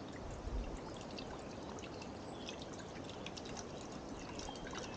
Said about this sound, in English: So I'm going to put the 200 millilitres in the pan.